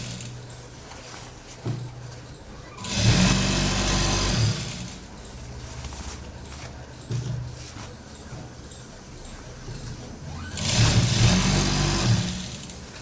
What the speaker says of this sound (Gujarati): સિલાઈ છે આ બેલ્ટ ઉપર જ આપણે સિલાઈ મારીશું, કેપરી ઉપર નહીં, બેલ્ટ ઉપર સિલાઈ લગાવીશું.